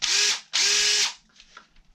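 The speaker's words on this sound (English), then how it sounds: "And then that's a powerful drill." A Flex Volt cordless drill running on a 60 volt battery whirs loudly in two strong bursts with a short gap between them, then winds down to faint mechanical rattles.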